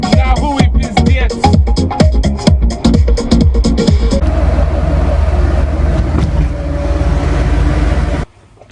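A Lada VAZ 2101 drives in hot South Florida weather, its engine droning loudly close by with rough, pulsing revs at first and then a steadier hum with wind noise before cutting out abruptly near the end.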